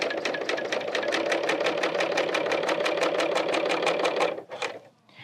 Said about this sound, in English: Serging around circles can be a little tricky because the machine is designed to go straight